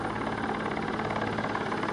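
A Swiss Air Force Super Puma helicopter runs with a steady, dense rotor and turbine drone, loud and continuous throughout with no voices.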